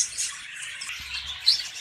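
Budgie parakeets chirp softly in a cage, with a red-eyed female and a yellow pied male nesting; the calls are faint, high twitters spread across a short stretch, with a slightly louder chirp near the end.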